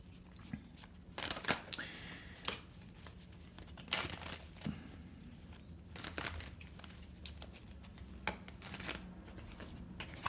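Tarot cards being shuffled and handled, giving a run of soft papery riffles and crinkly flicks in uneven bursts over a low steady hum, close and fairly quiet.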